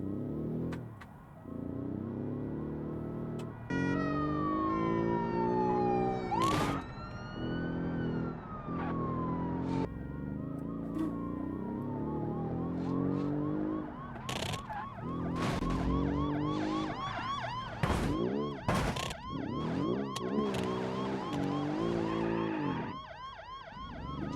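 A police car siren wails through a car-building video game chase, rising and falling tones over a steady engine drone, with a few sharp impacts and loud throughout.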